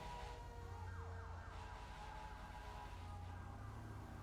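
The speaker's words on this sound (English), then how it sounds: "That siren sounds so pretty." A police-style siren from a DOJRP video game roleplay wails continuously, its sweeping electronic tones rising and falling over a steady engine hum, alone and fairly faint.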